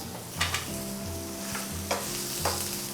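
A thin burger patty frying in a pan hisses with a steady, close sizzle, broken by a few soft scraping stirs and clicks, and nobody speaks.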